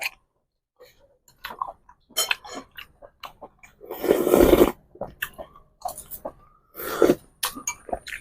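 Close, wet chewing of Isan sausage with glass noodles at a Thai eating show, coming in irregular smacking bursts with short pauses and a few louder crunchy moments.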